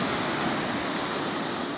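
High ocean swells breaking on Jabula Beach at St Lucia, a steady, loud wash of surf and roaring foam with wind noise and no voices.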